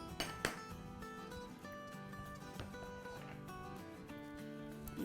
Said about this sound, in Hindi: चलिए इसको अब हम हिलाएंगे।